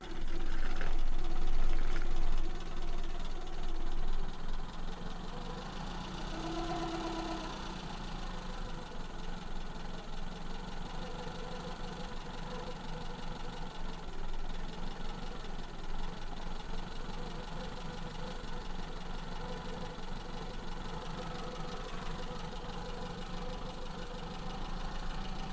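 A Maruti Zen car engine with a carburetor idles steadily after warming up during home servicing, a continuous close rumble that is a bit louder for the first few seconds, then settles into an even, slightly knocking hum.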